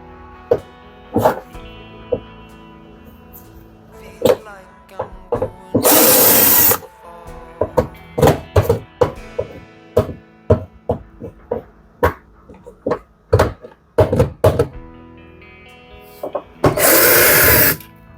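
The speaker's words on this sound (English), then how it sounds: "Now I have to remove this screws here." Screws are being removed from a Siemens 7kg dryer during a lint blockage repair, with scattered clicks and metallic taps and two loud bursts of whirring power screwdriver, no talking.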